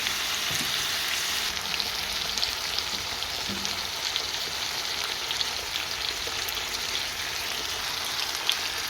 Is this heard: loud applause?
no